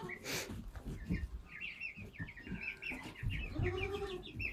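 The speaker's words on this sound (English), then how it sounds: "I thought it was kind of neat that they were in here crowing" Young roosters in a pen giving rough, broken crowing attempts mixed with clucks and chirps from the flock, fairly faint and continuous over low rustling.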